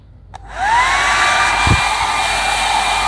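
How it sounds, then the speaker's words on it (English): A hair dryer starts up and blows steadily on high, close by, drying the surface of GORE-TEX waders, with a rising whine settling into a constant rushing hum. "Hair dryer."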